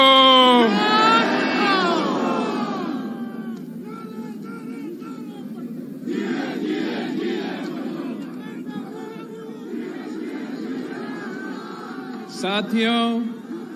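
A political rally crowd in Mardan chants Bhutto slogans in loud, ragged bursts of shouted voices, separated by brief lulls, with a final surge near the end.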